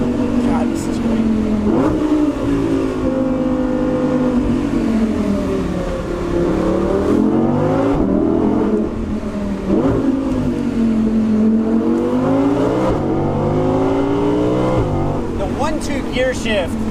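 An Audi R8 V10 Performance is floored from cruising speed on Alpine roads, and its loud engine howls and climbs in pitch through repeated upshifts, each followed by a brief dip and another rising pull.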